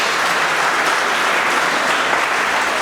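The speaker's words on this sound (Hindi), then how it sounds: "जरा जोर से ताली बजाइए।" Audience at a Meher Baba 121st birth anniversary celebration in Mumbai claps in steady, dense, loud applause that fills the whole stretch without pause.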